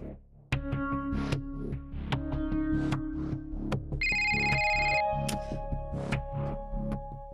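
An incoming call's ringtone plays as a repeating melodic phone chime, loud and close, cycling through several tones alone without any voices.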